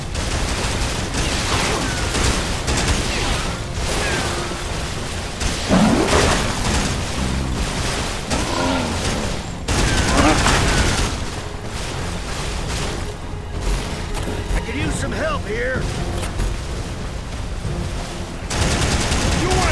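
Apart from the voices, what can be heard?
gunfire in a video game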